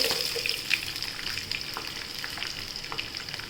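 Potatoes go into hot oil with crackled cumin and mustard seeds for green masala poha, a lively close sizzle that starts loud and eases slightly, with light spatters and faint stirring and no voices.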